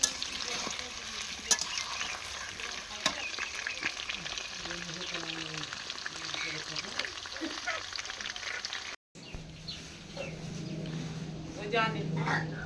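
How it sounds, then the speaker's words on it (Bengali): Potatoes fry and are stirred in a pan for a meat curry, giving a steady crackling sizzle with scraping stirs, a short break near the end, and voices faintly in the background. "তো মাংস করার জন্য আলুটা বসিয়ে দিয়েছি ভাজছি"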